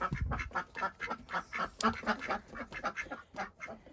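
Several ducks quacking close by in rapid, overlapping bursts, a busy chattering rhythm that continues throughout.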